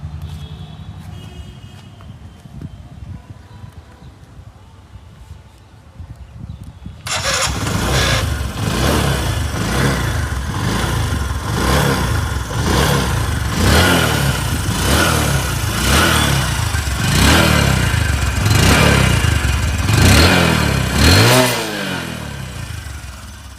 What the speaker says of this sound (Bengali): আমি এখন আপনাদের বাইকটির সাউন্ড শোনাই দিচ্ছি।